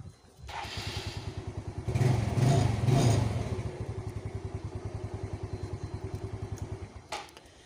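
A motorcycle is cranked by its electric starter and fires up, then idles with a steady, close, rapid engine pulse before cutting off.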